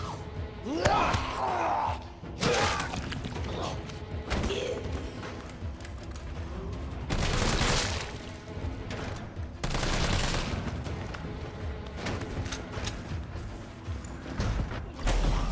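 Shots and heavy thumps ring out in the Resident Evil 3 game, bursts of gunfire spaced across the clip amid loud impacts, with a voice talking in between.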